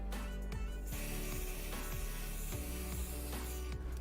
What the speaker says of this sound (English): Spray this second ridge thoroughly as well.